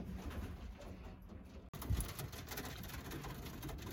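Pigeons in a loft aviary coo softly and intermittently over a background hum, with a sharp knock partway through.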